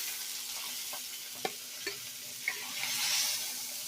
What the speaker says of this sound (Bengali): একইভাবে মাছগুলোকে ভেজে নেব